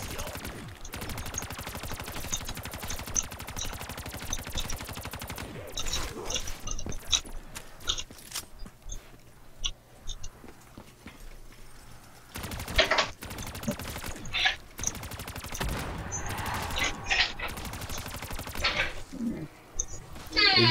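Bursts of rapid machine gun fire in a video game, loud and close, recurring in dense volleys with brief gaps, alongside impact clatter and scattered short game sounds.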